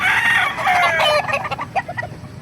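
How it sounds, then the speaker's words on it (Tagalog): Hen at a poultry market in Bocaue clucking in a quick burst of close, loud calls, then a run of shorter, softer clucks tapering off, with no talk over it. "Napakagandang hene, mga master."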